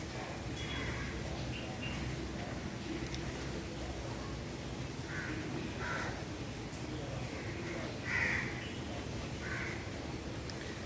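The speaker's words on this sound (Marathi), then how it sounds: "बिचारांच्या चिमण्या कावळे सगळ्यांच्या घरट्या घरट्यामध्ये पाणी घुसलं सगळ्यांना ओलं गेलं सगळे ओरडायला लागले" Crows caw and sparrows chirp in scattered calls after heavy rain flooded their nests. The birds sound moderately distant over a steady wet background hiss, and there are several short bursts of calling.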